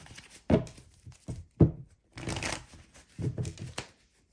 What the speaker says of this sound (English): we're going to go ahead and put it into the deck and shuffle.